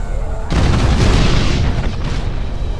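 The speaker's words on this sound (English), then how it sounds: "Melter torpedoes, fire!" Melter torpedoes fire and explode in the space strategy game Battlefleet Gothic Armada, a sudden loud boom followed by a sustained roaring blast that rumbles for a couple of seconds.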